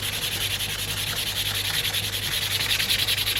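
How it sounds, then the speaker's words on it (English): Hand sanding a Dremel-carved Charizard Pokemon card deck box with roughly 240 grit sandpaper, a steady close-up scratchy rubbing that continues without a break and with no voices. "Might have to do some hand sanding just to smooth out some bits"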